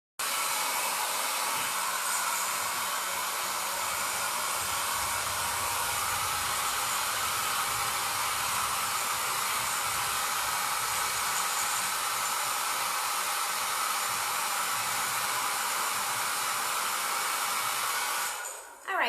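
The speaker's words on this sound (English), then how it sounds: "If you have a hair dryer and you're adult or you want to go get it, that'd be great so that you can dry this off really quick" A hair dryer blows steadily to dry paint on a CD being crafted into a painted donut, a loud, even whooshing roar that runs nearly twenty seconds before cutting off at the very end.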